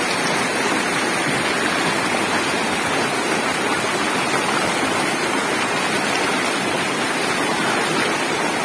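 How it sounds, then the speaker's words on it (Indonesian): River water flows in a natural outdoor setting in Purbalingga, a steady, loud, broadband rush that continues unchanged throughout with no speech. "Oh, kita melewati air sungai lagi"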